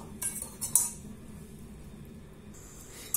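A spoon stirring flan powder into a mixture in a saucepan, a few sharp metallic clinks against the pan's rim spaced apart, with soft scraping and quiet pauses between.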